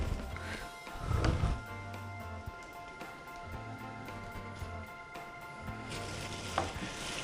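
Ginger-garlic paste fries with browned onions in a pan for chicken curry, a soft, even sizzle with occasional stirring scrapes over a low steady hum.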